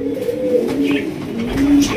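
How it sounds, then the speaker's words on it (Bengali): A pair of large Maltese fancy pigeons in a big cage coo steadily and close by, the low throaty warbling running continuously for about two seconds, with faint voices in the background. "দর্শক এখানে রয়েছে একটা হাই কোয়ালিটির ফার্স্ট ক্লাস এক জোড়া মাল্টেস কবুতর।"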